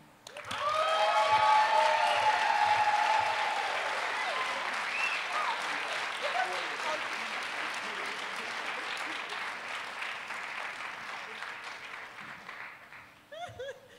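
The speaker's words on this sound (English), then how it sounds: "You guys can keep clapping" Sustained audience applause at a live Ignite Denver talk night, a loud dense wash of many hands clapping that swells at the start and then holds steady before tapering near the end, with a brief voice at the close.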